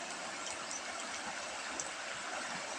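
Rising floodwater rushes past in a steady, broadband flowing roar, fairly faint and continuous, with no voices over it.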